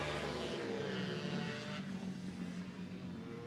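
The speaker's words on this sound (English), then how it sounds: "Hear those compression releases back there on them 2-strokes sound nice." Two-stroke racing motorcycles on a track, engines droning and rising in pitch at a distance, with a loud, continuous buzzing blur of several machines and a shift in tone as they pass.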